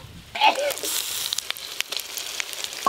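Masala of chilli paste, turmeric, chopped tomato and salt, with a splash of water, sizzles in a pan with pangas fish: a sudden loud hiss that settles into a steady crackling fry with small pops, close up.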